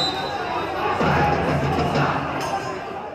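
Organized supporters of a Brazilian club chant together in the stands at Gigantão stadium during a Copa Santa Catarina match between Marcílio Dias and Inter de Lages, a dense, steady roar of many voices that swells briefly in the middle.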